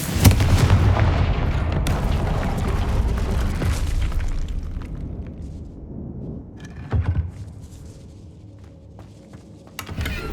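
Confringo blasting spell in Hogwarts Legacy: a loud booming explosion opens, then rumbling crackle decays over several seconds, with a few smaller thuds and a final burst near the end.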